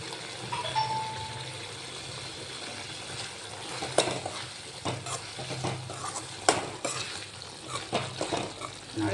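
Spiny brinjal palya, an eggplant curry, sizzling in a pan while a spoon stirs and scrapes it, with occasional sharper clinks of utensil on metal over a constant frying hiss.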